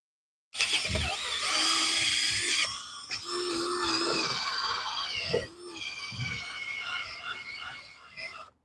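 A small wire brush, likely driven by a power tool, scours rust off metal ahead of welding, giving a continuous harsh, whining grind for about eight seconds with slight dips in pitch and a few brief pauses.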